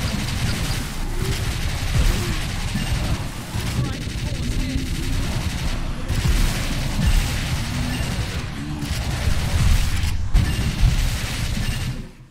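Gunfire in the arcade shooter House of the Dead Scarlet Dawn, a dense, loud stream of rapid shots that runs almost without pause, mixed with other game effects and voices.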